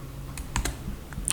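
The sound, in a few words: typing on a computer keyboard, pressing enter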